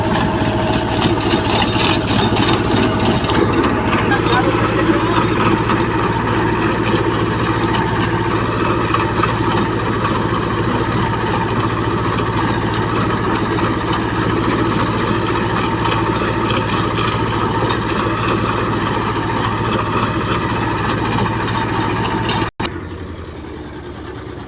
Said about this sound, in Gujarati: આવી રીતના મિત્રો કટર હાલે છે.